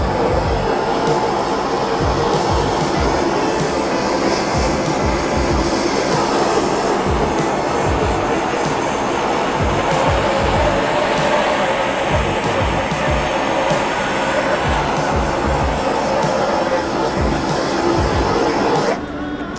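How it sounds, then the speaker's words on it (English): A blow torch roars loud and steady as it sears the outside of tuna tataki, a continuous close rushing flame noise that holds for nearly twenty seconds and then cuts off abruptly at the end. "you never think you're gonna get to use blow torches"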